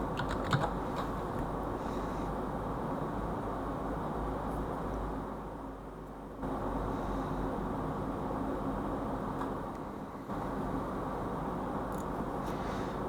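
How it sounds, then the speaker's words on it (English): Steady typing on a computer keyboard as a name is entered into a document's author field, quiet continuous key clicks with two short pauses, no voices. "In the author, I'm going to type in my name and surname."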